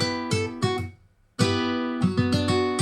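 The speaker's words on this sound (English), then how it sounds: "what I did was to use this slap effect in the Ample guitar Martin VST" Plucked, slapped acoustic guitar notes from an Ample Martin guitar plugin in a 2000s R&B-style beat, sharp percussive attacks in short groups with a brief gap of near silence between phrases.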